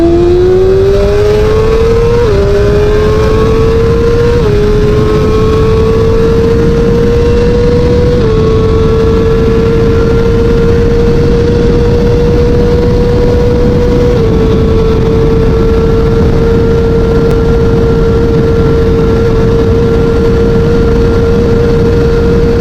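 Street-legal sport motorcycle screaming through its gears, the engine note stepping up after each shift and then holding a steady high-pitched howl at very high speed, loud and close with heavy wind rush and no talking.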